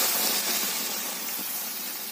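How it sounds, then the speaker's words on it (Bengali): Water is poured into a hot pan of fried spices and Kashmiri chilli powder, setting off a loud, steady sizzling hiss that eases off slightly over two seconds. The sound is close and continuous, with no talking. "এতে দিয়ে দিতে হবে পরিমাণ মতন জল।"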